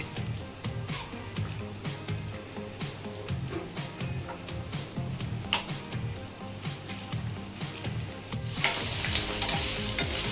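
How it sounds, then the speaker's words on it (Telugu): Paneer pieces fry in hot oil until golden, a dense close sizzle with repeated scraping stirs and clinks of a utensil against the pan, swelling louder near the end. "పన్నీర్ ముక్కలు వేసుకొని వీటిని బాగా కొంచెం గోల్డ్ కలర్ వచ్చే వరకు వేయించుకోవాలి"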